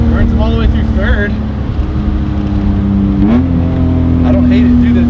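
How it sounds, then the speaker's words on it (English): BMW E30 with a swapped-in S52 engine pulls hard, its loud, steady engine tone climbing in pitch as it accelerates through the gears, close to the listener, with a voice talking over it early on. "This car feels, sounds, and drives great."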